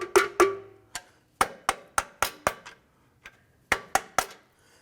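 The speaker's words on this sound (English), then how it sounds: "I'm going to tap that with a hammer." A hammer taps a metal brake line retaining clip on a 2007-2014 Cadillac Escalade: about fourteen sharp, ringing metallic strikes, close and loud, in irregular bursts with short pauses between them.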